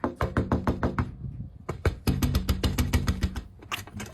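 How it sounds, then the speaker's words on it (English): A door is rapped with rapid, loud knuckle knocks in quick bursts, a brief pause, then a second longer flurry of insistent pounding, heard close and alone. "Why you knocking on my door like that?"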